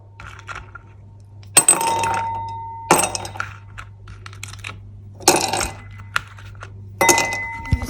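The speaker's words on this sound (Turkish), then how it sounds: "Önce bir buzları buraya koyacağım" Ice cubes dropped into a glass for homemade iced coffee, four sharp clinking bursts spaced a second or two apart with small rattles between, close and loud in a quiet kitchen.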